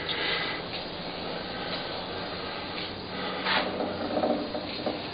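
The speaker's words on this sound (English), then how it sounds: "That's the sound of the titanium being peeled back by this high-speed steel cutter." Titanium being threaded by hand with a high-speed steel die, giving a steady, quiet rasping and scraping of metal being cut, with a few brief louder scrapes and no talking.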